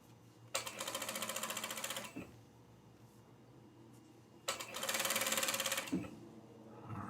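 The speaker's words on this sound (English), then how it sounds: "let's go ahead and stitch towards the towel on this one like this" A sewing machine stitches across a towel in two rapid mechanical runs of about two seconds each, separated by a pause, close and clear, with no voices.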